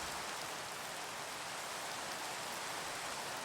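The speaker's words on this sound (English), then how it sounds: "Alright, so it's starting to rain." Steady rain falls in the Minecraft video game as a continuous, even hiss of drops with no breaks, heard alone at a soft level.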